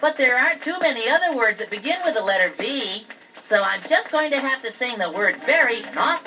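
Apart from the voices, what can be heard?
None of the usual background noises is heard.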